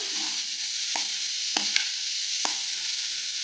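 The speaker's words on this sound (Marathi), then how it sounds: "पहिले आपण कांदा टाकून घ्यायचा आहे, थोडाफार आपण आता फ्राय करून घ्यायचे सगळे व्हेजिटेबल" Onion and vegetables fry in a pan as filling for a crispy toasted veg sandwich: a constant sizzle close by, broken by a few sharp spatula knocks against the pan.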